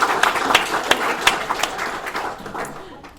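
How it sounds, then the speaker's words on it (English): Applause from a gala dinner audience in a hotel ballroom, a dense wash of many hands clapping steadily at close to moderate distance, thinning slightly toward the end. "So please give yourselves a round of applause."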